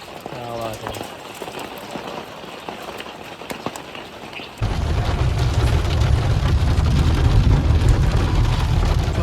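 Hail and rain fall in the Himalayan mountains near Tosh village, Himachal Pradesh, first as scattered patters and then as a sudden, loud, dense roar of drumming stones. Faint voices are heard early on.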